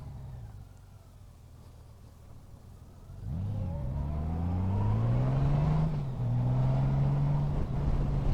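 Honda Goldwing bagger with manual gearbox running in second gear, the engine note rising and sweeping through shifting pitch as the motorcycle rolls on an open road, loud and close with steady wind noise underneath.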